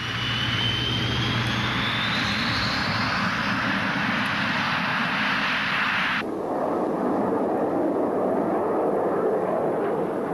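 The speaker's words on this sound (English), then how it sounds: "The MiG-27 is a tough, well-equipped and popular aircraft" A Soviet MiG-27 jet on a low-level training flight at dusk roars loudly and steadily, with a rising whine in the first part before the sound abruptly shifts to a deeper, duller rumble.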